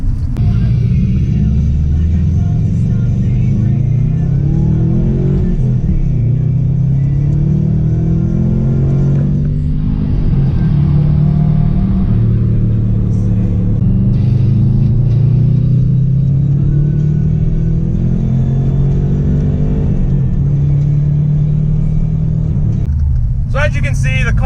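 A stock 2002 Subaru WRX with 187 horsepower launches from a standstill, its engine rising in pitch through repeated gear changes as a loud, close rumble, with a voice talking over it throughout.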